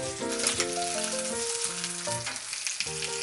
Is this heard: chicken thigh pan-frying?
yes